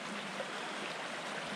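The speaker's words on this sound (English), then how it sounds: "now I am at where the water comes in and flows around" Stream water flowing around a small island on a wooded waterfall trail in Marinette County, Wisconsin, a steady broadband rush that is moderately loud and close, continuous with no talk.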